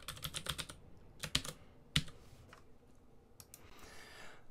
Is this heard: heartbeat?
no